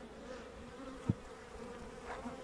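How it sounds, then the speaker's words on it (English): Honey bees buzz steadily around a caged queen at a hive on a Portuguese farm, a close, low insect hum with one brief louder bump partway through. "I have installed here a fertile queen. As you can see, the bees are already interested."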